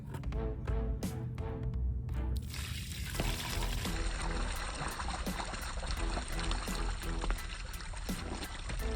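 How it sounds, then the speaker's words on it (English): A bucket of rinseless car wash water is emptied out onto the ground, a continuous heavy pour and splash that runs steadily for the whole stretch, fairly close. "let's empty out this water and see how it looks"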